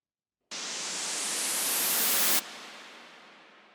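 A synthesized white noise sweep builds steadily in brightness and loudness as a transition effect, then cuts off into a softer reverb tail that lingers and fades at the end.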